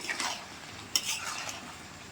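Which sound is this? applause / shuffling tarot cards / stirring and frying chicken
stirring and frying chicken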